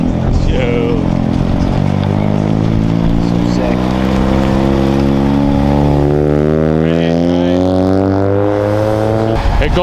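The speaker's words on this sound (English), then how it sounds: "Ooh, a Mazda. RX-7." A Mazda RX-7 sports car at a local car scene in Rochester, Minnesota, gives a loud, close engine drone whose pitch rises steadily near the end as it revs and drives past.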